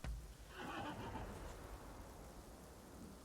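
A horse whinnies while being ridden in the video game Rise of the Ronin, a fairly loud neigh near the start over steady rain-like ambient noise.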